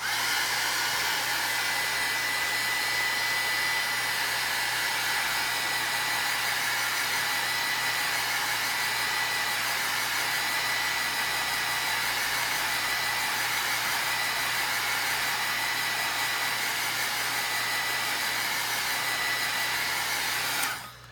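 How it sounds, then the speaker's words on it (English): A heat gun dries ink on a craft tag with a loud, steady blowing roar that runs unbroken for about twenty seconds, then cuts off at the end. "I'm gonna go ahead and just hit this with the heat gun"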